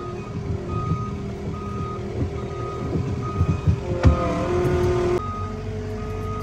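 A heavy machine working on a clean-up site drives with its engine rumbling steadily while a loud, regular reversing beep repeats throughout, close by, with no talking.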